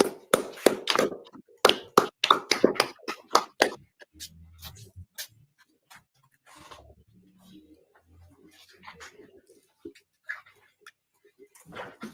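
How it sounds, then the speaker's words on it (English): An audience claps after a law class in Harlem, New York, a quick burst of loud applause for a few seconds that thins into scattered taps and a few faint voices. "All right, clap it up."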